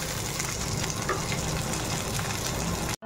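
Bitter gourd fries crisp in a pan, a dense, continuous close sizzle and crackle that cuts off abruptly at the end.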